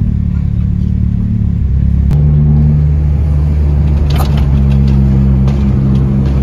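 A car engine rumbles loudly nearby with a deep, throaty exhaust, revving up briefly partway through.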